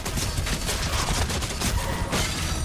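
Enemy gunfire in Doom: The Dark Ages, a dense continuous barrage of rapid shots and impacts, loud and close, with no talk.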